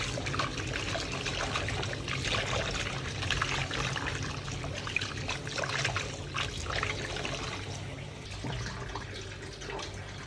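Hands swishing and sloshing tapioca through salted water in a basin, with continuous trickling and splashing, close and steady throughout; no talking.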